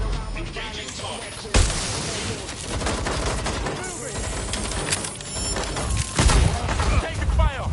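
Bursts of rapid gunfire in the video game Watch Dogs: Legion, repeated volleys and sharp shots with booming impacts, loud and close under game sound effects.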